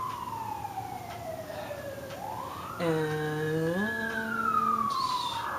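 A police siren wails in the distance, sweeping down and then rising into a steady two-tone wail that holds, then fades.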